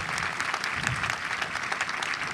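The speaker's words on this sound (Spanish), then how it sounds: "Por favor, con el aplauso de todos ustedes, en este importante momento, justo reconocimiento" An audience at an anniversary ceremony of a Mexican transport institute applauds, steady crowded clapping with a few sharper claps standing out, continuous and moderately loud throughout.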